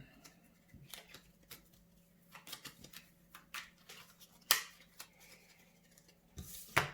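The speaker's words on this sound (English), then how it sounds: "Third player also needs to shuffle their cards." Playing cards being shuffled during a family card game, heard as a string of soft riffling rustles and light taps with a few sharper clicks, fairly quiet and without speech.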